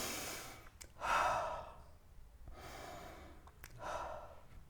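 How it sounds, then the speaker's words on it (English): Slow deep breaths taken close to the microphone, long airy inhales and exhales alternating in an unhurried rhythm with no talking. "Take a few deep breaths."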